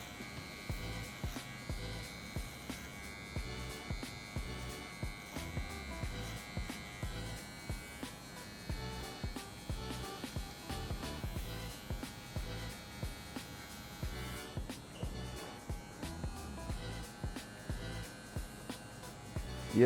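Electric hair clipper with a size 0 guard cutting a mid fade on curly hair, a soft buzzing hum that swells and dips in short repeated passes as it moves over the head, quiet and close.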